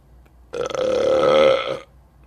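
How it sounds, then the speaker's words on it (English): A single long, loud belch, close up, rumbling for over a second before trailing off into quiet. "you can hear the staff out in the hall burping from time to time"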